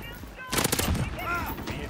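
Shotgun fire in Call of Duty Modern Warfare, a loud burst of several rapid blasts coming after a short lull, with game sounds and a voice around it.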